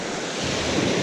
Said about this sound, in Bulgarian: Дигна лека вълна морето.